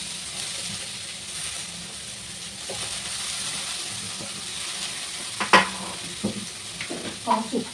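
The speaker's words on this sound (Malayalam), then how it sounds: "കടുക് പൊട്ടിയിട്ടുണ്ട് നമുക്ക് നമ്മുടെ ബീൻസ് ഇട്ട് കൊടുക്കാം" Green beans hit hot oil with popped mustard seeds and sizzle at a low, steady level, with scraping stirs and a few sharper clinks of a utensil against the pan toward the end.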